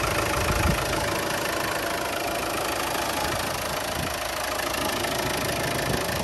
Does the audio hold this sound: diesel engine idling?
yes